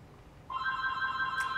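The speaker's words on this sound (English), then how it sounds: "That phone is driving me crazy." A telephone rings with a steady, repeating electronic trill that starts abruptly partway through and continues loudly and close by, with no talking over it.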